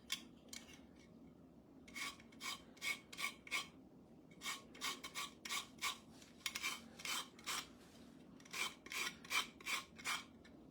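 Lemon being zested on a grater in a kitchen: short rhythmic rasping strokes in quick bursts, close and fairly quiet, with no talk.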